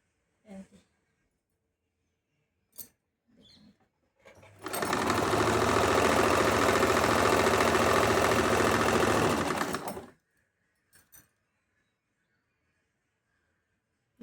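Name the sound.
sewing machine stitching piping on a blouse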